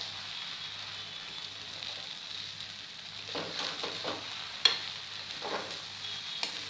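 Chicken biryani stirred in a pot as its cooking water dries off, with soft scraping and clicking strokes of the spoon over a steady low sizzle, a few sharper knocks standing out near the end.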